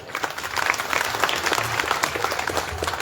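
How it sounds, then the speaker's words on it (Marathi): A crowd at a municipal election rally in Indapur breaks into steady, dense applause, many hands clapping together at moderate distance. "त्या हातांसाठी एकदा आपण जोरदार टाळ्या वाजवायच्या"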